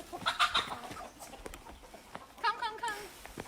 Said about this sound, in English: I can see a big rooster inside over there.